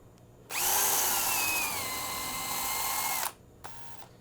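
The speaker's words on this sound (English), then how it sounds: "I'm just going to drill through." A power drill drills through a dog house door piece, whirring loudly for about three seconds, close by, then stops, followed by a short second burst.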